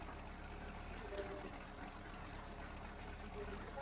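A tractor is refuelled in the Farming Simulator 19 video game, giving a steady, low, continuous pouring hiss at even volume throughout.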